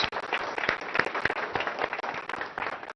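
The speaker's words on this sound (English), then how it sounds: "the entire family of ZF deserves a huge round of applause." An audience claps at the inauguration of a ZF technology center, a moderately faint, steady spread of many hands with scattered sharper individual claps standing out.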